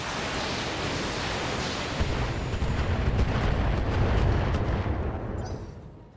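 A tank cannon fires in BattleTech with a heavy, booming blast that swells into a broad rolling roar, deepening and thickening midway before fading out at the end.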